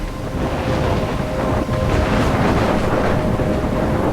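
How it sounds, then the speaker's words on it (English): A storm in the video game Life is Strange, where wind roars and waves crash in a dense, unbroken rush of noise that stays loud and steady throughout, with no voices. "I'm trapped in a storm?"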